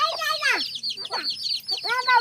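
Chickens cluck and squawk close by in a run of sharp, rising calls with short pauses between bursts, near and fairly loud.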